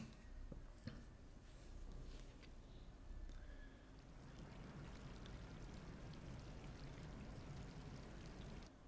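Water flowing in the video game Stray, a faint, steady rushing stream that builds and then holds under quiet ambient game sounds, with a few soft clicks early on.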